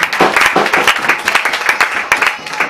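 A church congregation at an evangelistic prayer gathering claps and acclaims loudly, with rhythmic bursts of applause and cheering voices crowding together in a lively, sustained wash.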